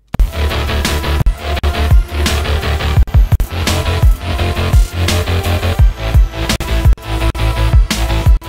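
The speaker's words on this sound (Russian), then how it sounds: "Плюс еще добавляется маленечко хлэпа." A loud, continuous hip-hop instrumental plays its percussion part, two layered drum tracks with a light clap added, in a punchy repeating rhythm.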